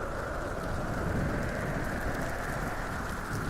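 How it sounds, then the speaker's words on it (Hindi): Heavy rain and wind from a Kal Baisakhi nor'wester storm pour down in a steady, dense roar, unbroken and fairly close, with no voices. "इस तूफान की आवाज बिल्कुल अच्छी नहीं लग रही।"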